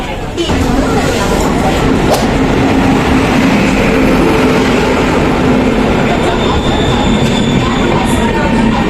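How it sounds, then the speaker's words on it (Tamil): Lalbagh Superfast Express train rolling into a station platform on the Bengaluru line, a steady loud rumble with a sustained low hum and faint high wheel squeal throughout, a sharp clank near the two-second mark, voices murmuring underneath. "நம்ம ட்ரெயின் வந்துருச்சு"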